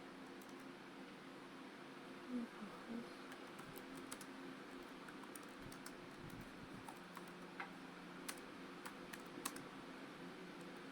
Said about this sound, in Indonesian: untuk memulai proses yang sama di latar belakang, ketik perintah berikut.